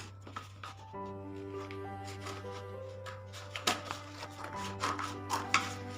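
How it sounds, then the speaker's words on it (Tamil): Scissors cut a white cardboard sheet into small strips for a children's word game, making soft, close crunching snips against a steady low hum, growing busier toward the end. "இப்போ நம்ம அட்டையை கட் பண்ண ஆரம்பிக்கலாம்."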